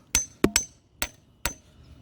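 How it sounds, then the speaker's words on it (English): Sharp metallic hammer blows knocking a worn control arm bushing out of a Lexus SC300/SC400 lower control arm, five separate close strikes with a quick double hit near the start and pauses between them. "Hit it with the hammer."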